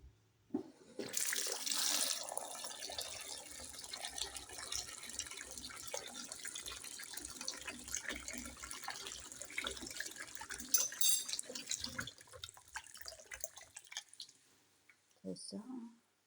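Water runs from a tap in a steady splashing stream for most of the stretch, stopping toward the end, followed by a brief soft clatter.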